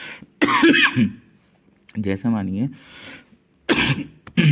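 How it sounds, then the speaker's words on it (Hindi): A man coughs and clears his throat a few times in sharp bursts, with brief spoken words between the coughs. "ठंड हो रही है तो खांसी हो गई थोड़ी"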